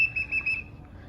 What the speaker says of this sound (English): Got the whistle blown.